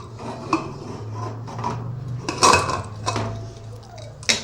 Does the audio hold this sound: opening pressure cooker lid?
yes